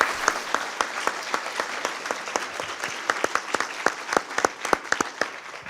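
Audience applauding four panellists at a citizens' assembly meeting: steady, moderately loud clapping from a roomful of people for about six seconds, with no talk.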